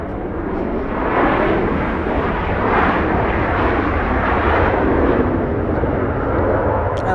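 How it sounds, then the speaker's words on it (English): A WestJet airliner landing and touching down at LAX, a loud, broad engine roar that swells and holds steady for several seconds, close to the microphone, with no talking. "WestJet coming into land, touching down."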